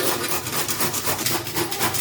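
A young bottle gourd has its soft inner flesh scraped out with rapid, rhythmic rasping strokes, close and steady throughout with no talking.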